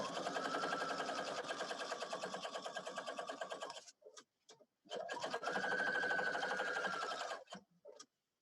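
A sewing machine runs a long basting stitch around applique stabilizer, a fast, even mechanical chatter in two sustained bursts with short pauses and a few single stitches between.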